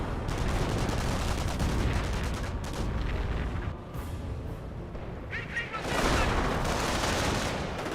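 Mortar shells from a creeping barrage hit a hedge in the video game Company of Heroes, a dense, continuous rumble of explosions and gunfire with a heavier burst of blasts toward the end.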